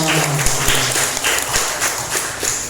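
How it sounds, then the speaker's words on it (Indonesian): Students in a classroom teaching session clap for each other, a short burst of dense, moderately loud applause that fills the room briefly. "Oke, tepuk tangan untuk kalian semua."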